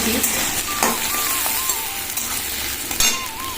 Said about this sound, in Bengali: এবার আমি দিয়ে দিচ্ছি কুচুনো পেঁয়াজ ভেজে